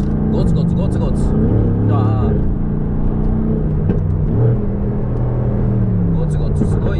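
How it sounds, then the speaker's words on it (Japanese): A Mercedes-AMG GT R sports car driven on a public road, its exhaust burbling with crackles and pops over a steady low engine drone, close and loud, while someone talks throughout. "あのもうマフラーもパラパラパラパラ言ってますし"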